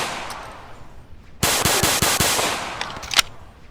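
A 5.7 pistol fires in the game Black Bag, a quick string of about six sharp close shots in even rhythm, followed by a couple of fainter trailing cracks.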